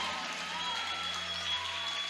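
A church congregation at a children's church inauguration applauds, a continuous wash of distant crowd clapping with a steady low hum underneath.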